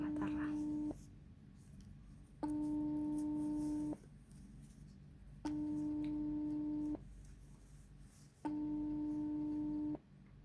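Unanswered phone call ringback tone: four evenly spaced steady beeps, each about a second and a half long with pauses between, heard clearly over faint background murmur.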